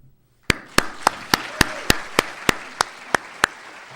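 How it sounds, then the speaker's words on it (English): Audience applause at a distinguished service award ceremony, heard as sharp, evenly spaced claps, about a dozen in a steady rhythm over a soft room murmur. "I want us to all applaud those who put it on and applaud each other for all the participation in what we've done here"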